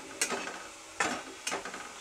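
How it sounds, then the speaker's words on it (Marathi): Onions frying in a pan for vajri masala, a soft steady sizzle with three quick stirring scrapes at irregular moments, close and fairly quiet. "मला जरा चांगलं तळून घ्यायचं, तांबूस कलर होईपर्यंत"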